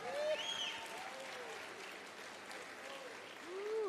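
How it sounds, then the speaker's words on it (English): Festival audience at an outdoor entertainment stage claps in a steady, moderately loud wash, with a few whoops and cheers rising through it. "How about a round of applause for our festival director?"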